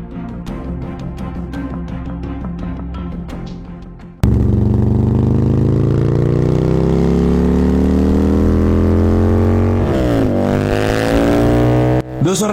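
Motorbike engine idling with rapid ticking pulses, then a loud steady drone as it pulls away, revs rising and shifting, close and continuous.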